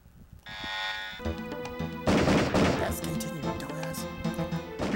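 Gunfire and thudding hits ring out from the PS1 shooter Area 51, played with a D-pad, in a dense burst of sharp impacts over game music and sound effects, with a voice talking over it.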